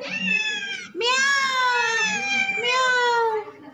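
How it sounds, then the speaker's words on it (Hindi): A cat meows loudly and close up in a home kitchen, three long rising-falling cries back to back with only a short gap after the first. "बिल्ली है"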